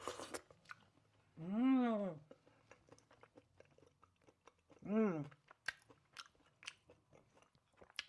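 Someone chewing and tasting a freshly cooked home dish seasoned with sesame oil in a kitchen in Germany, soft close crunches and mouth clicks between two drawn-out hums of appreciation, quiet and intimate.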